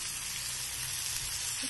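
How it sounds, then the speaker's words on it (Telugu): Carandas berry pieces sizzle steadily in a hot pan, a constant close frying hiss with no voices. "ఐదు నిమిషాల్లో వాక్కాయ ముక్కలు వేగి మెత్తబడిపోతాయి."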